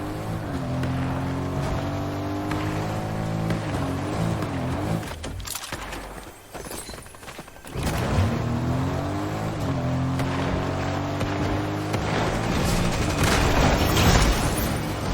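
A car racing at speed in Fortnite, its engine droning steadily with pitch shifts as it accelerates, joined by booms, gunfire bursts and tire noise from the game, loud and continuous.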